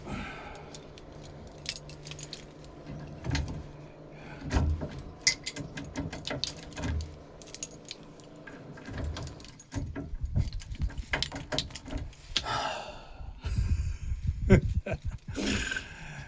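Ignition keys for a VW Type 2 van jangle and clink in scattered bursts, close and fairly quiet, with some handling noise between the rattles.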